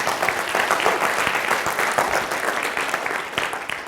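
Audience applause at a presentation fills the room, a dense, steady wash of many hands clapping at close range, sustained evenly throughout with no voices above it.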